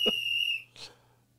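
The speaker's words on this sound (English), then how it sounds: "Whistle!" A single sharp, high whistle blast held for about half a second, loud and close, followed by a short breathy puff.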